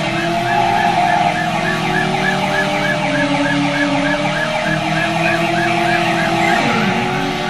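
Police siren in the Driver video game, a continuous wailing siren cycling steadily over car engine noise throughout, loud and close, with no voices.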